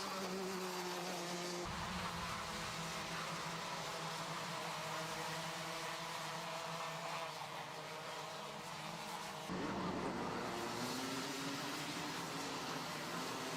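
Racing go-karts in a championship battle at the front of the field, engines droning steadily and loud with shifting pitch as karts pass close by, a fresh kart note cutting in partway through.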